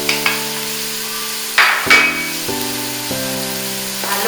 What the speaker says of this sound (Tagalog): Halo lang natin ng mabuti ang mga sangkap